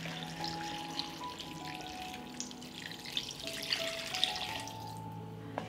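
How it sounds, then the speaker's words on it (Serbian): Water is poured into a pot of frying potatoes and paprika, a continuous rushing, bubbling pour mixed with hissing from the hot pot, steady and fairly close. "I sada ću sipati litar vode."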